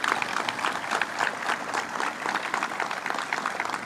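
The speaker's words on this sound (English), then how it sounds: "So let's give Senator Bonasek a tremendous round of applause." An audience applauding for a senator at a 2016 event, a dense, even round of clapping sustained throughout at moderate distance, with faint crowd murmur.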